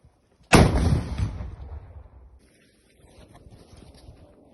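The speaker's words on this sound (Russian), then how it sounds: "Выстрел!" A single loud, sharp weapon blast during the war in Ukraine, with a booming low rumble that decays over about two seconds, followed by quieter outdoor noise and faint rustling.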